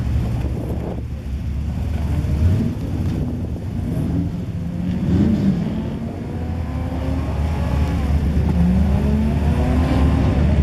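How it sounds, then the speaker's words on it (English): Several classic and muscle car engines idle and rev together outdoors at a Concours d'Elegance show in French Lick, a steady low rumble with rising throttle blips throughout, fairly close and loud with wind buffeting the microphone. "Thank you very much, owners, for starting your motors for us."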